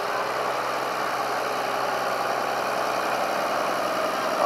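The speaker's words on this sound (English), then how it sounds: "Scamel Explorer, the heavy recovery vehicle, the predecessor of the Leyland Martian." A Scammell Explorer heavy recovery military truck idles at a steady, even rumble throughout, a constant mid-range engine drone with no talk over it, outdoors at a military vehicle parade.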